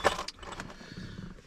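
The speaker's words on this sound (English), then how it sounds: "Those are keys." A bunch of keys jangles close by in a garage during repair work on a Fiero GT steering column: a sharp metallic jingle at the start, a second brief rattle, then quieter handling noise.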